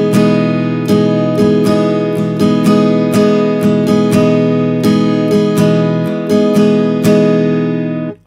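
Acoustic guitar strummed in a sparse, thinned-out rhythm pattern, with about fifteen clear, ringing strokes in a steady pulse, close and loud with no voices, letting the final chord fade at the end.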